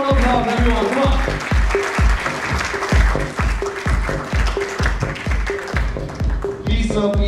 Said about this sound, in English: I want all of you a huge, huge, huge round of applause.